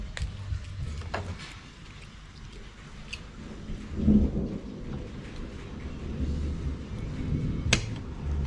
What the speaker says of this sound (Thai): อันนี้ฝนตกแล้ว